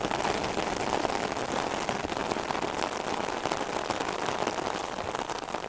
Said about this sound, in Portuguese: Agora realmente a chuva apertou.